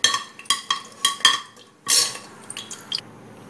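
Pot clatter and a spoon scraping as onions and tomatoes go into a pot for chicken and vegetable kulambu, with bay leaf and cinnamon already in: a series of close, sharp metallic knocks and clinks, then a brief sizzle-like rush and a few lighter taps.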